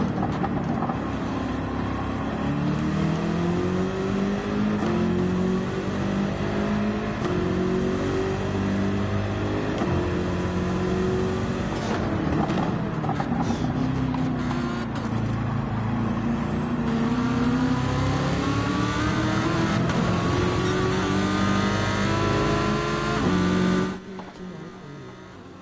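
Group 4 race car engine in Gran Turismo 7, revving and shifting through gears with rising whines and repeated upshift drops over a long run, loud and close, cutting off abruptly near the end, with speech at times.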